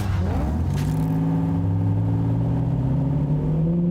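A Honda Civic drives and accelerates, its engine note climbing steadily in pitch, loud and close throughout with no voices.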